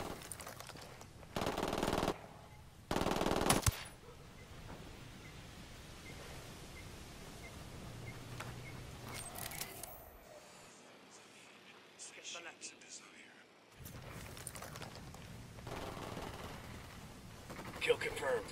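Gunfire in the video game Ghost Recon Wildlands: loud broadband bursts of shots early on, then a quieter stretch and renewed firing, with game voices talking in between.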